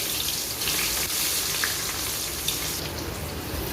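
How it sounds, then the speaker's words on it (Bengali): Chopped onions lightly frying in oil with bay leaf, whole cumin and whole garam masala in a pan while cooking chicken curry, giving a steady, moderately close hiss and sizzle with scattered small crackles. "পেঁয়াজ আমি হালকা একটু ভেজে নিছি"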